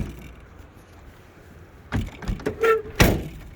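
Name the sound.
door of 1953 Packard Clipper closing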